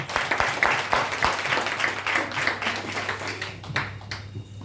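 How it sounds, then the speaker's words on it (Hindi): Audience applause in a product presentation hall, a steady patter of many hands clapping with a low steady hum beneath, tapering slightly near the end. "तो एक बार ताली हो जाए इसके लिए।"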